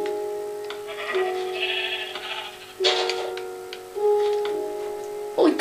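Sheep in the video game Minecraft bleating several times, clear nearby baas spaced apart with faint ticking game noises in between.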